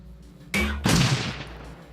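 Shotgun fire in the video game Shadowrun: Dragonfall, heard as two heavy booming blasts in quick succession, the second louder, each followed by a short decaying rumble.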